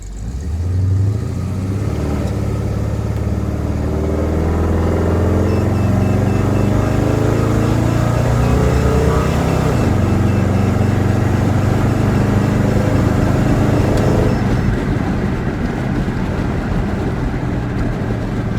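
A car fitted with a Lyell's aftermarket exhaust drives on the road, its loud, blatting exhaust drone rising and falling through gear changes, steady and close throughout with no talking.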